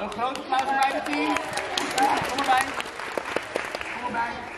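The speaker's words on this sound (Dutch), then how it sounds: "een groot applaus voor mijn team." Audience applause for a team at a live show in Bergen op Zoom, scattered sharp claps mixed with cheering and lively crowd chatter, fairly close and loud with uneven bursts.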